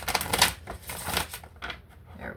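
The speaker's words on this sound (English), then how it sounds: "One more shuffle." A deck of cards being shuffled during a tarot-style reading, giving a dense run of rapid clicking and riffling bursts that swell and fade over a couple of seconds.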